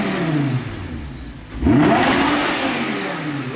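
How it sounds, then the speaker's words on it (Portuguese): Audi R8 engine revving hard in a sharp burst after a lower idle, a loud close rising roar that holds and then settles into a steady high drone. "Dá uma aceleradinha pra me ver."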